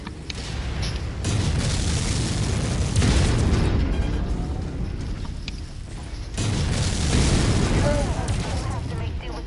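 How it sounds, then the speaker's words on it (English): A missile explosion in the Mechwarrior 5 Mercenaries video game, with heavy booming blasts and rumbling detonations running loud throughout, surging at the start and again later, as radio chatter and mechanical noise mix underneath. "Incoming missile."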